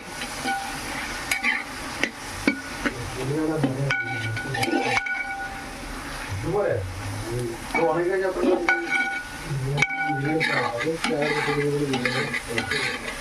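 Food frying in a pot is stirred in the kitchen of an old traditional family house in Kerala. Repeated scraping and clattering strokes sit over a steady sizzle, close and busy, with people talking intermittently.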